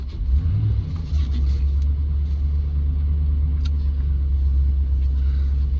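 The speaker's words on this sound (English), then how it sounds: "Starts on the button, no signs of any misfiring, hesitancy or overheating." A Land Rover Defender 90, 50th anniversary edition, turns over and settles into a steady, deep idle, its engine rumbling loud and close, with a couple of faint clicks along the way.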